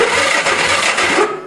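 A go-kart engine cranks without starting, a dense, busy churning of the starter that runs for about a second before fading off.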